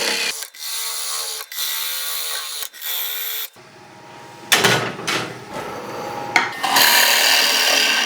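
A gouge cutting a wooden closed-form bowl on a lathe, giving a loud continuous rasping scrape that stops and restarts in several passes, with a rougher, shifting cutting tone later, close up and without talk.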